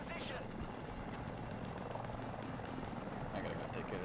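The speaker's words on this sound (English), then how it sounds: "I gotta go take care of this heli" Rotor thump of a nearby helicopter flying in the Battlefield 2042 shooter, a steady dense roar that carries under game combat noise throughout, with people talking over it.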